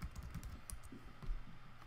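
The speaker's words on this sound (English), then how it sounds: "I typed in my password wrong there" Quick, quiet keystrokes on a computer keyboard as a password is typed in, a short irregular burst of clicks with no talking.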